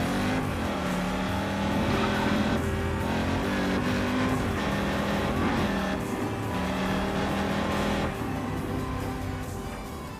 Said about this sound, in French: on va dans un premier temps tester cette petite voiture qui m'a l'air bien sympa. Écoutez le bruit qu'elle fait.